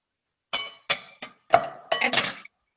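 A metal utensil clinks against a skillet holding a chicken enchilada casserole mix of beans and corn, six sharp taps in quick succession, close and clear with silence around them.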